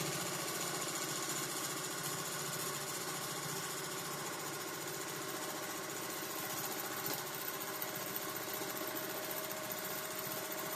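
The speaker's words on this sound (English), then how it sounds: "I know I'm really making the machine work to get through all those layers and all of those seams" A sewing machine runs steadily, driving a free-motion quilting needle through thick layers and seams on a mini frame, with a continuous dense mechanical whir and no talking.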